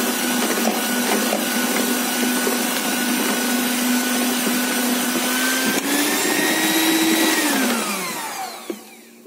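A handheld electric mixer whirs loudly and steadily while beating oil with eggs for cake batter, its motor pitch climbing briefly before dropping away as it switches off near the end.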